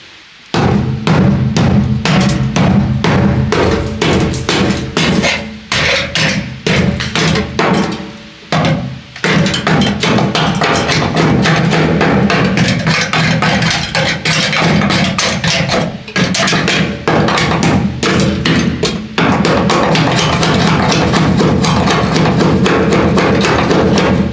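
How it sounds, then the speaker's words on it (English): A stick jabs again and again at a fiberglass and Bondo patch on a rusty vehicle, a loud, close run of hard knocks and thuds that keeps going with only brief pauses. "Let me get a stick and poke at it."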